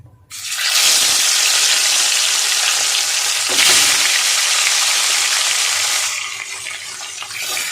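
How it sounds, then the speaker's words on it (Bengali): Rohu fish hits hot oil in a wok with a sudden loud sizzle that roars steadily for several seconds, then eases to a softer, lower crackle. "মাছ দিয়ে দেবো ভাজতে।"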